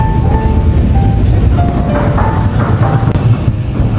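A train rumbles along elevated railway tracks beside Borough Market in London, a loud, steady low roar with faint rail squeals, continuous throughout with no talking.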